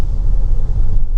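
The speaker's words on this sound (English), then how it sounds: "tend to hear a lot of road noise more than anything else" Low, steady road rumble inside a Kia PV5 Cargo panel van driving around town at about 30 mph, a continuous muffled drone with no speech.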